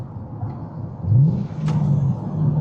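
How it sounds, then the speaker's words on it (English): A C6 Corvette V8 blips during a downshift, a short low rev rising then settling into a steady rumble, heard from nearby over road and wind noise. "A little downshift right there."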